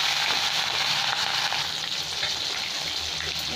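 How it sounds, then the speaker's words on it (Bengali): Pieces of rohu fish fry in hot mustard oil, giving a steady, dense hiss and crackle that stays close and even from start to finish. "রুই মাছটা সরষের তেলে ভেজে নিচ্ছি"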